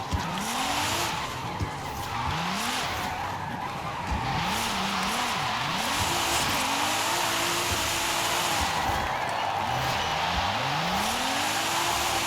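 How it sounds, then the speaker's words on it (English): 2018 Nissan Sentra Nismo with an AWD drift tune sliding in a video game, engine notes rising and falling in repeated sweeps over steady tire squeal, loud and continuous with no talking. "You can drift pretty slowly with this thing."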